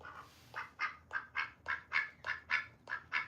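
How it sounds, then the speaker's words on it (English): A pet duck quacks and squawks loudly in a rapid series of about a dozen evenly spaced calls, close to the microphone with no talking. "I go live every Saturday with my duck. Yeah, she is loud."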